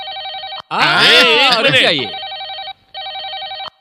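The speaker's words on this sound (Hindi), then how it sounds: "मेरा फोन मेरे लिए नहीं तो किसके लिए बजेगा?" A mobile phone rings loudly and close by with a repeating electronic ringtone, broken by a short gap, while someone speaks over the first part of the ringing.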